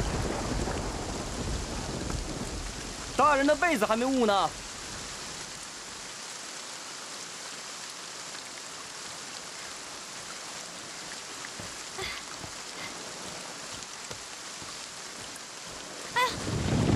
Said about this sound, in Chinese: 下雨呢。